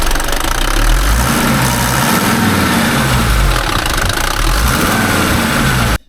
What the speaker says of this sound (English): And hello, engine.